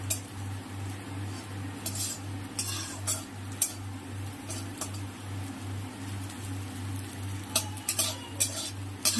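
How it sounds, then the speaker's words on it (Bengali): Soybean chunks frying with turmeric in a pan: a soft sizzle over a steady low hum, broken by frequent clinks and scrapes of a utensil stirring against the metal. "হলুদ দিয়ে লাল লাল করে ভেজে নেব"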